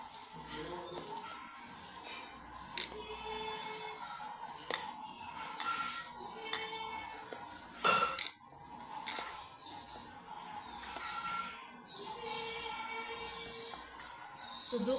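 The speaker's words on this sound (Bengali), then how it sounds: "দিয়ে এখন আমি পুরো মিশ্রণটাকে ভালোভাবে মিশিয়ে নিব।" A spice mixture of chili flakes and salt is stirred in a bowl, with repeated scraping and clinking of a spoon against the dish and a few sharper knocks, close and moderately loud.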